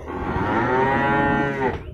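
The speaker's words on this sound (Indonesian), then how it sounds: "banyak sapi-sapi jumbo di pasar hewan Grogol" Cattle at a livestock market let out one long, loud, close moo that holds steady for about two seconds, with no talking over it.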